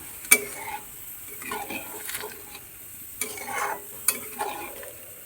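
Chana dal and green chillies being stirred together in a pan, giving soft scraping and sizzling sounds with a few sharp utensil clinks against the metal.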